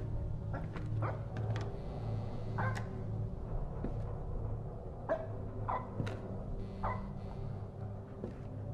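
A dog barks and yips in a horror video game, a scattered series of short, moderately distant barks over a low droning ambience.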